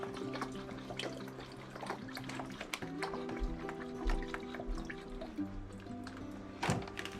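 Worcestershire sauce poured over garlic and meat during freezer meal prep gives soft drips and small liquid splashes over a steady kitchen hum.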